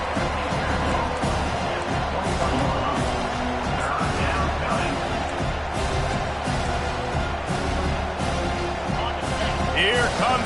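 Home crowd noise at a college football game on third down, a dense, steady roar of many voices swelling throughout, with a commentator talking over it.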